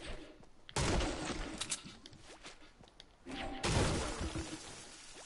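Gunfire in a video game: two loud broadband bursts of shots, one near the start and one after the midpoint, with scattered crackling pops in between over a steady background rumble.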